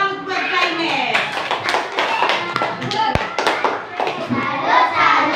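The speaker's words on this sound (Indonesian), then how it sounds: "Tepuk salut buat Zainab." Classroom children clapping together for a classmate, a quick rhythmic patter of small hands with chanting voices mixed over it, close and lively.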